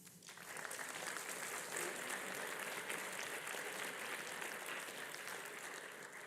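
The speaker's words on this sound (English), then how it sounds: "so we're gonna give applause for each of them." Audience at an awards ceremony applauds a finalist with steady, sustained clapping from a crowd, fairly distant and even, continuing for several seconds with no talking.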